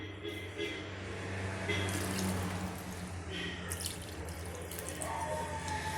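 Water trickles faintly in small additions while sweet potato dough for a sweet flatbread is mixed into a sticky consistency, with soft dripping and splashing against a quiet kitchen background.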